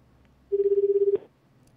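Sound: telephone call connecting and ringing

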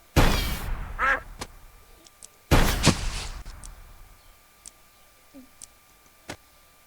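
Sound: bird on a wire being shot in video game Gun Blood

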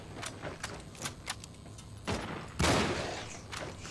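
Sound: enemy soldiers' gunfire in Cryostasis video game

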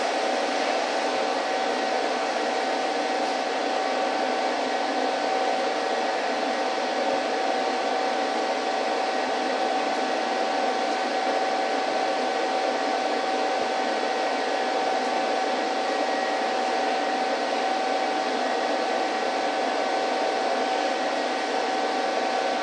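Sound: Everlast PowerTig 185 TIG welder arc welding root pass, DC

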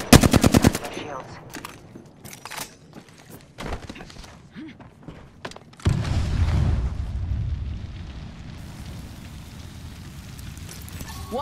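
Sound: gunfire in the video game Apex Legends

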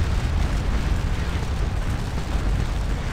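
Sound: Prussian artillery fire in video game Scourge of War Waterloo

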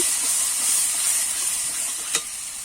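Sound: sautéing spice paste with turmeric in pan

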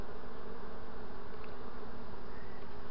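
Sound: honey bees buzzing around a hive

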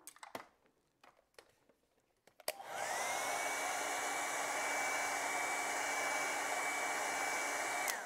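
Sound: hair dryer drying acrylic paint

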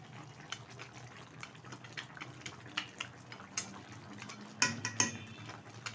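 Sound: stirring pabda fish curry in a pan

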